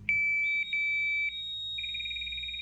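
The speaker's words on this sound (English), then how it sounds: "Ensure both the pneumatic and electronic alarms activate between 80 and 70 bar." Low-pressure alarms on a firefighter's breathing apparatus, a shrill electronic tone interrupted in a few bursts, then a rapidly pulsing beep with a faint pneumatic whistle beneath, close and clear.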